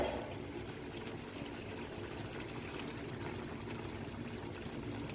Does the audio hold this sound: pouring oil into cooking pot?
yes